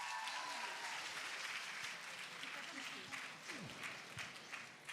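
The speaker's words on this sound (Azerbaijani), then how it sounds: "Alqışlarınızla." Audience applause for a Baku State University KVN comedy team at a live stage show, steady clapping filling the whole stretch with a faint shout or two rising through it.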